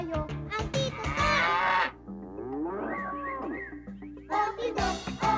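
A cow moos in several long, loud, close calls, each a drawn-out bellow with a short pause between, the last one cut short.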